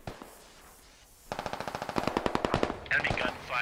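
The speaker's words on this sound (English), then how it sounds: "Enemy gunfire" Rapid bursts of automatic gunfire start after a quiet moment and keep going in a steady rattling rhythm, loud and close, with a louder burst near the end.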